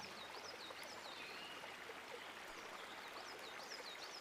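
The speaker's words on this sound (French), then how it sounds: "on se retrouve près du ruisseau" A creek flows steadily beyond a foreground rock outdoors, its continuous soft trickling and babbling water constant and fairly quiet, with occasional high birdsong chirps drifting in from the surroundings.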